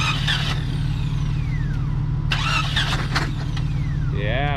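An upside-down Jeep Cherokee is cranked over, its starter and engine churning in a steady, loud, continuous drone. Brief higher squeals and clatters ride on top, and a rising whine appears at the end.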